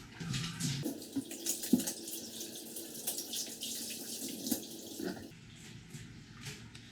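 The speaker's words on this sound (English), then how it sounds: "of course we're going to wash our hands" Hands washed under a running kitchen tap before cooking, a steady, moderately quiet stream of water with splashing and rubbing that shifts in tone as the hands move.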